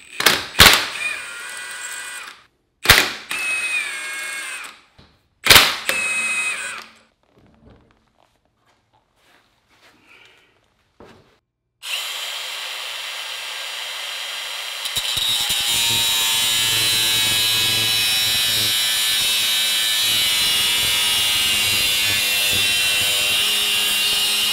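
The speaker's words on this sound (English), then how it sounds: "I have to cut the extended studs on the car." A power tool cutting extended wheel studs on a 180SX, starting with a few sharp short bursts separated by quiet gaps, then a long continuous loud grinding whine that grows steadier and harsher.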